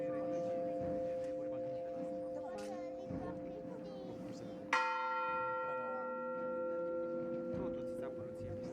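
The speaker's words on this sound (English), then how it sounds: "The church bell rings every hour" A church bell rings in Lavrio, Greece, on Good Friday of Orthodox Holy Week. It gives sustained, layered tones with one sharp new strike midway, heard under low background chatter.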